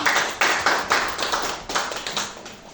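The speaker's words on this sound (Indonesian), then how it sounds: "kita berikan dulu tepuk tangan kepada Pak Pran" Scattered hand clapping from a small audience for a prospective teacher presenter at a school event, a loose rhythm of repeated bursts at moderate distance with no talking.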